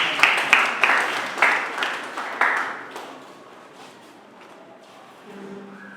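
At a school debate grand final, a round of applause sounds with a few louder claps standing out, then dies away into a quieter room with faint murmurs.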